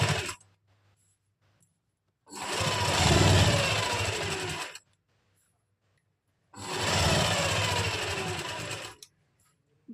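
Sewing machine stitching the lining of a kameez with long stitches, two sustained runs of close whirring separated by quiet pauses.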